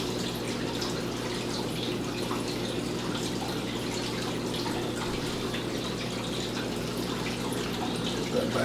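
Steady bubbling and churning of water stirred by an aquarium powerhead paired with a sponge filter, a continuous close wash of trickling and dripping with no talk.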